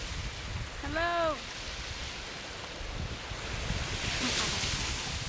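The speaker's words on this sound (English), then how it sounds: "Those waves, did you see them? They came right up to me almost." Ocean waves breaking on a beach, a steady wash of surf with wind buffeting the microphone, and a brief tonal call rising above it early on.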